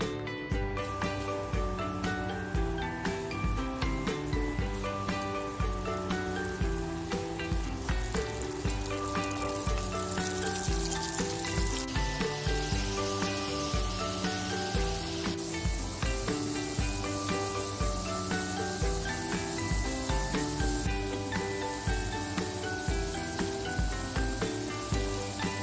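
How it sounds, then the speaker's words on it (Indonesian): Flour-battered shrimp fry in hot oil, giving a continuous soft sizzle and crackle that lasts the whole time under steady background music. "Ini udah dibaluri merata udangnya,"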